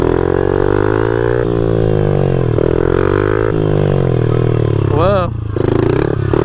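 A motorcycle practising wheelies in a stunt-riding session, its engine droning and revving with shifting pitch throughout, rising and falling with throttle changes, close and loud, while a rider's voice is heard too.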